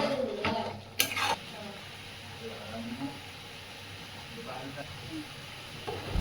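A piece of butter sizzles in a hot pan beside spices while cooking semolina pasta, a steady soft hiss under a voice, with a few clinks near the start.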